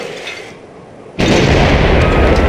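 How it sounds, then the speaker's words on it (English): Artillery bombarding the city of Delhi in Civilization 5: after a quieter lull, a sudden loud boom hits and rolls into a sustained, dense rumble of explosions lasting to the end. "Bombard Delhi, please."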